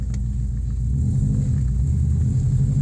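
A turbocharged all-wheel-drive car being driven, heard from inside as a loud, steady low engine rumble with no distinct revving.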